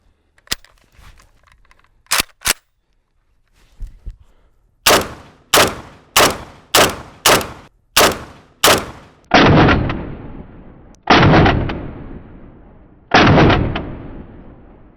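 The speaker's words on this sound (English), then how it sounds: "We're just gonna hit it a few more times with some intermediate rifle just to verify that it is completely multi-hit" Intermediate rifle rounds are fired at a ceramic armor plate outdoors: about a dozen loud, sharp gunshots, first spaced, then in a quick regular string, followed by three heavier booming shots with long echoing tails.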